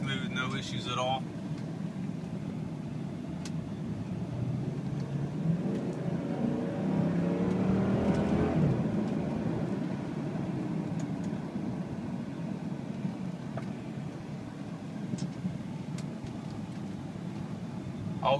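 A lifted Jeep Cherokee with a 4.7 engine is driven on the road, giving a steady low engine and road hum that swells briefly as it pulls, while someone talks over it.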